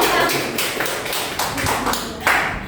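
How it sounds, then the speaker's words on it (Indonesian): Classroom students clapping for a classmate, a short uneven burst of taps and claps, close and moderately loud, with some voices mixed in. "Oke, tepuk tangan untuk Hendy."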